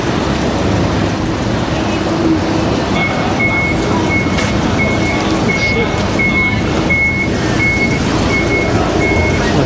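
Reversing truck beeper in a busy Sydney laneway on a delivery afternoon, a steady series of evenly spaced high beeps starting a few seconds in, heard over loud continuous traffic and street noise.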